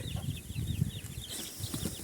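Incubator-hatched chicks from a Teplusha 72 PRO incubator peep in a quick series of high chirps, close by, over low clucking from nearby chickens.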